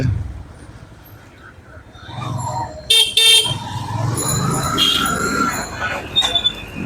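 A heavy traffic jam on a city street beside a railway crossing, with a steady rumble of engines and road noise and several loud, overlapping horn blasts around the middle and later, fairly close and without talk.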